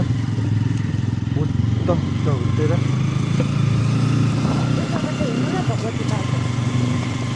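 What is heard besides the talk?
motorcycle passing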